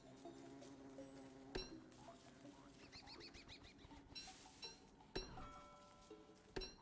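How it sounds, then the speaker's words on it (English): Buzzing bees in the game Don't Starve, a faint insect drone running under a busy game soundscape with occasional chimes and clinks. "I hear bees, and it does not make me happy"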